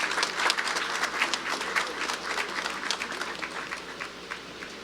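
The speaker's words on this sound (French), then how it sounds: "je demande à l'assistance d'applaudir l'ensemble du cabinet ministériel" Attendees at the installation ceremony for a new Prime Minister and cabinet applaud the ministerial cabinet. The crowd's clapping is fairly faint and distant, with an even, continuous patter for about five seconds.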